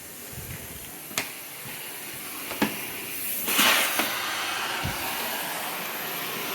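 A built-in central vacuum system with its power unit in the basement runs with a steady airy hiss at household distance, broken by a few sharp clicks and knocks as the hose nozzle moves over surfaces.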